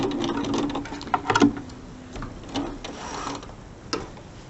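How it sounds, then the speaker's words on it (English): A sewing machine back stitches the binding on a mini quilt: a close mechanical ticking burst with a few sharp clicks, then softer intermittent machine noise and small taps. "I want to back stitch just to lock those in place a bit."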